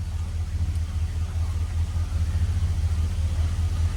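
A 1968 Cadillac Deville's engine idles with a steady, deep low rumble close by, even and unbroken throughout, no voices over it.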